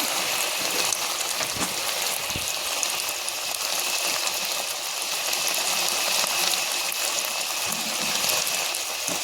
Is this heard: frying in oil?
yes